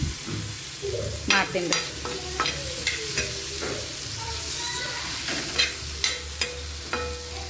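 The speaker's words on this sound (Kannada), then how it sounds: "ಈಗ ಸ್ವಲ್ಪ ಟಮಾಟಿ ಚಟ್ನಿ ಮಾಡಿದ್ರೆ ಆಯ್ತಂತೆ ಹುರಿಯಕತ್ತೀನಿ ರೀ" Tomatoes frying in a pan for tomato chutney, with steady close sizzling broken by sharp clacks of a spoon stirring against the pan, while someone speaks briefly in the background.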